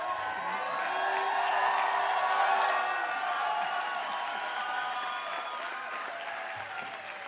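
A large crowd applauds during the Stanford GSB 2009 graduation commencement, with a steady, dense wash of clapping that swells and then slowly eases, heard from within the audience.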